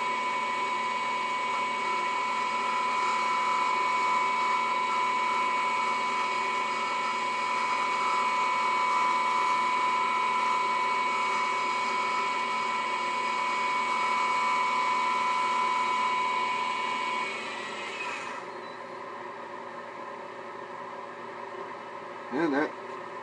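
A wood lathe spins a face grain spindle while a small 3/8 side ground bowl gouge shear scrapes it, giving a steady mechanical hum with tonal whine that drops off near the end.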